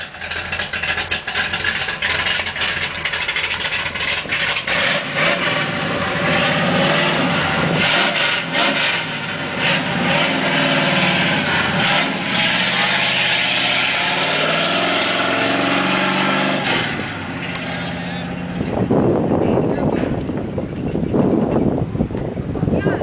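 A 1955 Chevy Nomad with open electric exhaust pipes revs loudly and steadily up close for about eighteen seconds, its mid-pitched engine roar holding near, then shifting into a brighter surge as it pulls away at the end.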